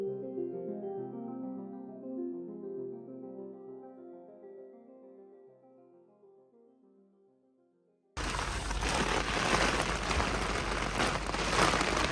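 After a stretch of soft melodic tones, a loud, dense patter of hail striking a surface starts abruptly and keeps pounding steadily, in Tasmania.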